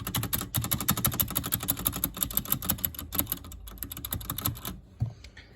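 Close, steady rapid typing on a Hator Starfall mechanical keyboard with Outemu switches, a dense run of clacky keystrokes that slows and stops near the end, with a final stray tap.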